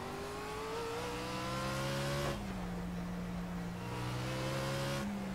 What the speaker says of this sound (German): Der Motor ist laut.